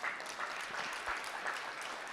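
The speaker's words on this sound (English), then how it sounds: "Can we give her a round of applause?" Audience applause at an awards ceremony, a steady wash of clapping throughout the short stretch, fairly quiet and distant, with no voices over it.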